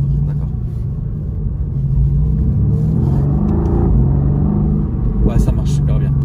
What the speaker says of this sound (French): Elle fait des petits retours à l'échappement.